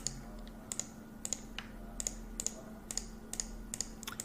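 Sharp mouse clicks as colors are picked and areas filled in pattern-design software, a few soft, crisp, evenly spaced taps over a quiet room hum with no talking.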